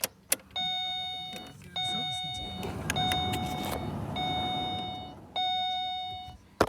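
A Holden car's instrument cluster chimes several times, clear bright tones repeating in steady bursts, over a low idling hum inside the cabin.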